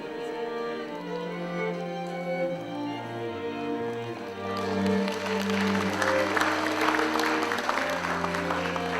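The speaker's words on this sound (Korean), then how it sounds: "축하의 박수를 부탁드립니다" Congratulatory applause at a university's 87th anniversary ceremony, a crowd clapping steadily under orchestral music that starts softer and grows fuller and louder partway through, no talking.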